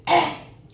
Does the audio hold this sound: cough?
yes